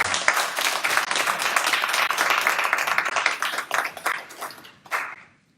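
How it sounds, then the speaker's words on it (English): A live audience applauds warmly at a talk event, dense clapping filling the room at steady strength before tapering off with a final burst and fading out. "give thanks, warm round of applause again"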